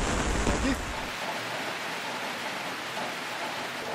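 Steady hiss of rain falling in Pejibaye, Cartago, Costa Rica, constant and enveloping, with a brief muffled thump near the start.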